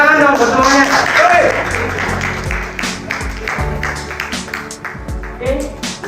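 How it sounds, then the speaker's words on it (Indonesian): A small audience claps at the close of a group presentation on narcotics and psychotropic drugs, a steady patter of hand claps under a voice talking over it, gradually thinning out toward the end. "Tepuk tangan dong buat semuanya"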